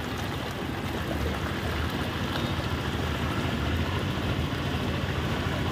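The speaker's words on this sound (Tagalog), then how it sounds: "Ito na yung dagat" Sea surf by a beachside hotel in Bauang, La Union, Philippines, makes a steady, dense wash of water noise mixed with wind, constant throughout with no talk.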